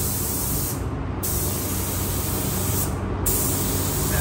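Spray gun applying three-stage paint to a Dodge truck panel, a steady close hiss of atomized paint running throughout, with brief dips in the highest hiss where the trigger pauses twice.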